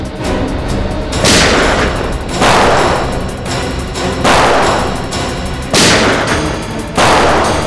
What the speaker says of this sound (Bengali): এখানে ফায়ারিং হচ্ছে